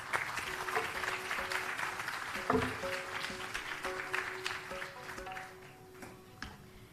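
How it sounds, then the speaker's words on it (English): Applause from an audience after a Bharatanatyam dance performance of Bhairavi Varnam fills the space, steady and moderately loud, with sustained tones from live instruments beneath it, fading toward the end. "I think Vidya needs another round of applause for that wonderful presentation of Bhairavi Varnam"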